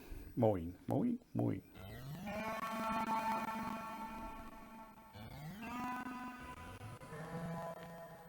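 A synthesizer patch on a 1010music nanobox Lemondrop imitates a cow mooing: three short bleating calls, then long drawn-out tonal moos that bend and slide in pitch, moderately quiet and standing alone.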